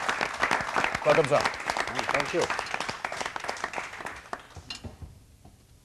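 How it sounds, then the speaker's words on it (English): A warm round of audience applause welcomes the director of the Nehru Science Centre, Mumbai, onto a science quiz show stage. Steady clapping runs under brief spoken greetings and tapers away near the end. "Let's have a very warm round of applause for him."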